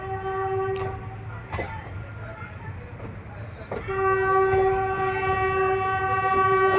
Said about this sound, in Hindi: हमने छोड़ा प्लेटफॉर्म नंबर 2 राजकोट जंक्शन।